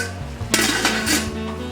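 A metal lid clatters onto a boiling pot of steamed eggs, a sharp clang followed by rattling metal scrapes and a second knock as it settles, close and loud with steam hissing beneath.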